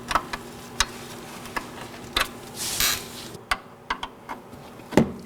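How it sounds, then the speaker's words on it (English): Wrench working loose a 10mm brake line bolt on a 2013-2019 Nissan Sentra front brake hose, giving a series of sharp metallic ticks and clicks with a brief rasping rub, close and fairly quiet. "I'm gonna move this with a wrench."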